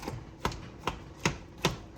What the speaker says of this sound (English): Just chop them a little bit like that.